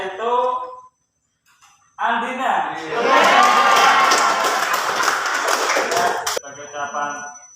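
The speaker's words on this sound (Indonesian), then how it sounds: "Tepuk tangan untuk kelompok 1 ya" A classroom group claps for group 1 after a teacher's spoken remark, a dense burst of applause lasting several seconds before cutting off, followed by more talk.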